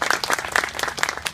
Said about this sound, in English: can we give a round of applause for all these kids in Newton High School?